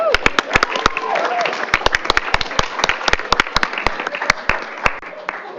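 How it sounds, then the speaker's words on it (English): An audience at a school district board business meeting applauds educators: loud, close individual claps ring out over a sustained bed of crowd clapping, with a voice briefly audible underneath. "Let's give these amazing educators one more round of applause."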